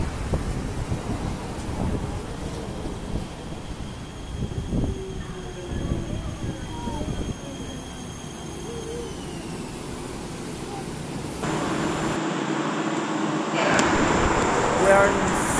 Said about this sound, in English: We are inside of the Maracaibo subway.